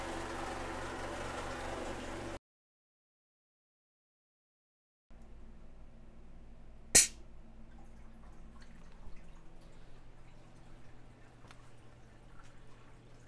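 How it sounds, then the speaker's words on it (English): An air release valve on a closed-loop DIY vapor blaster lets go with a single sharp, loud burst of air that fades within a second, set against steady low pump noise. "you just heard the air go off"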